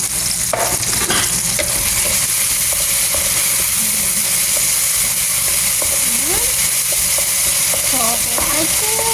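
Indomie noodles being stir-fried into pansit canton in hot oil, a steady loud sizzle with splattering and the scrape of a utensil stirring throughout, no talk.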